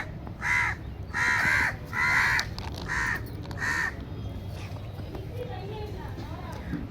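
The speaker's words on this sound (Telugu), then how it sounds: "కాకులు అయితే సిద్ధంగా ఉన్నాయి అరుస్తున్నాయి" Crows caw in a run of five loud, harsh calls close by at a village temple, then fall quiet, leaving a low background rumble with faint distant sounds.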